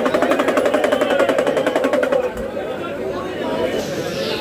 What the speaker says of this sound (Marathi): मशीन आहे पेढे बनवायचे